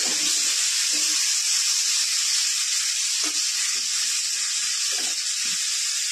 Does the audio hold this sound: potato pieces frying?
yes